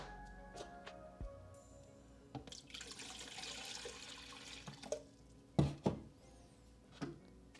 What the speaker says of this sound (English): we're just going to add some water into our Dreos and inside of the first tank